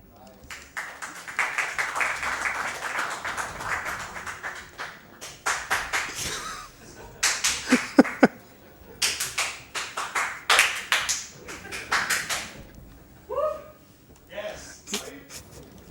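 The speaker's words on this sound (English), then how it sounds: "So that's a clap for Persia crowd then." A small crowd at a speedrunning marathon event claps in bursts of sharp, separate claps that swell and fade, interleaved with a speaking voice between rounds.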